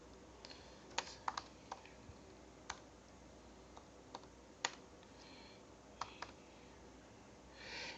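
Scattered keystrokes tap on a computer keyboard, a dozen or so sparse clicks at an uneven pace against a quiet, faintly hissing room, with no one speaking.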